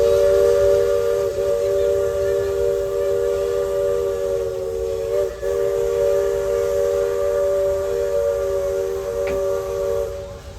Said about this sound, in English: he's gonna blow the whistle here in about 5 to 10 seconds